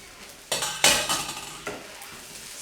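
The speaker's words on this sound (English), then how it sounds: "Okay, so I'm going to pop that veg in." Chopped vegetables dropped into a hot pan for egg fried rice, bursting into a sharp loud sizzle with clattering pan and utensil scrapes, then settling into crackling hiss, close up with no talking.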